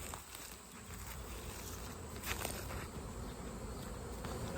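Honey bees swarm around a hive during a large honey harvest, a dense, continuous buzz close to the ear, steady and loud throughout with no talk.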